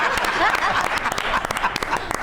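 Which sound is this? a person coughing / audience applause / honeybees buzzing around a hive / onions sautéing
audience applause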